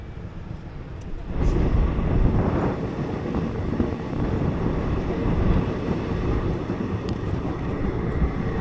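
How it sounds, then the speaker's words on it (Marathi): A local passenger train pulls out of Chhattar station on a short-distance line toward the Pakistan border, its wheels and carriages building into a loud, steady rumble after a quieter start. "आता आपली ट्रेन इकडच्या छत्र नावाच्या स्टेशनवरून सुटलेली आहे"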